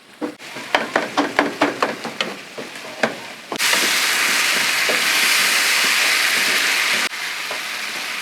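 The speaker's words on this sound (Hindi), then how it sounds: "इनको हमने अच्छी तरह से मिक्स कर देना है। फ्लेम हम हाई कर देंगे।" Tomatoes and liver stir-fried over a high flame in a karahi: a run of sharp spatula scrapes and clanks against the metal, then a loud, continuous sizzle and hiss that drops slightly near the end, with no talking.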